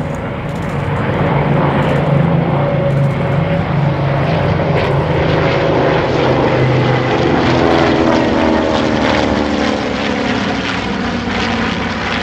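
A World War II propeller aircraft flies past at an airshow over Illawarra, its loud, steady engine drone holding for the whole stretch and shifting slightly in pitch as it passes, with no talk.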